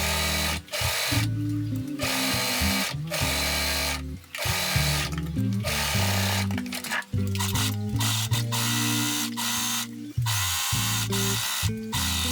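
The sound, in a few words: sewing machine sewing side seams of a skirt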